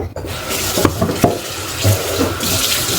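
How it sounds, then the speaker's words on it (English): Tap water runs steadily into a kitchen sink as drained canned vegetables are rinsed, a continuous splashing stream with a few brief clatters of a container, close by and with no talking. "now I'm going to take all my canned good vegetables and drain them and"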